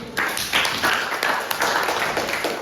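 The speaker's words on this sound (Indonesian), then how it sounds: "Jadi tepuk tangan dulu" Classroom applause for a teacher about to give tips on making posters, a steady patter of many hands clapping at moderate volume for a few seconds, with faint room noise.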